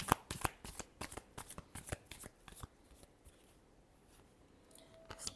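Tarot cards riffled and shuffled by hand up close, with a quick run of crisp flicking snaps that thins out into softer sliding.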